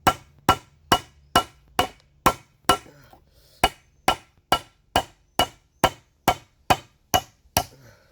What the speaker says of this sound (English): Use the fucking whole hammer and it creates the bend.